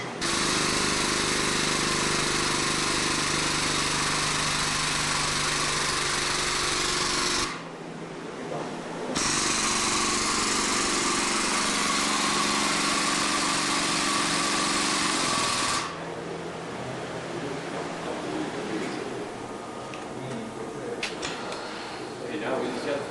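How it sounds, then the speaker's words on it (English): A Nimcor roll restorer run by an air pump operates in 3-inch increments, producing a loud, harsh, continuous pneumatic hammering roar that stops briefly, resumes, then drops to a rougher, quieter rattle near the end. "Okay, now we'll operate the unit. It'll go in 3-inch increments as run by the air pump."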